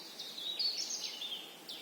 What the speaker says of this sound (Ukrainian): насолоджуюся співом пташок.